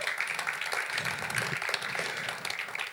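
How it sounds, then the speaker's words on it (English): Audience applause at a leadership networking event, a dense, steady patter of many hands clapping throughout, with a few voices cheering faintly underneath. "let's give a huge round of applause to yourselves"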